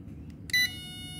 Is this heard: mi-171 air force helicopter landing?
no